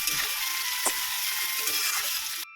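Tomatoes with a little salt sauté in a pan, giving a steady bright sizzle with a soft stirring scrape midway, running until it cuts off abruptly near the end.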